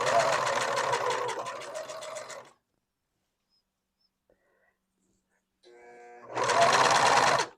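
A domestic sewing machine runs a double-needle stitch, a fast steady buzzing whir for a couple of seconds, then quiet, then a second loud burst after a short ramp-up, with a voice heard over the first run.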